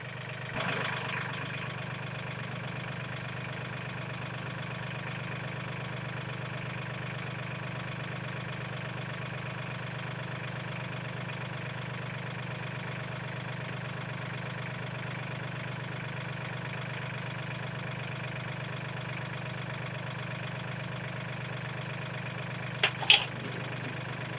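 A steady low tractor engine drone idles on without change, with a brief clank or knock near the end.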